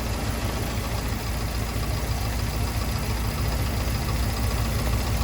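A Volkswagen Gol G6 engine with a slight misfire idles steadily at close range, giving a dense, continuous rumble with no clear break.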